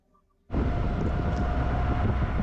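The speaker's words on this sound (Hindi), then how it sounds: "अभी देखते हैं दिल्ली की मेट्रो का सफ़र हमारा कैसा रहता है" A Delhi Metro train rumbles in loud and steady after a near-silent start, a dense broadband roar with a faint whine holding on top as the ride gets under way.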